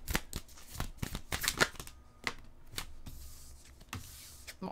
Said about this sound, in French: On va chercher deux autres cartes.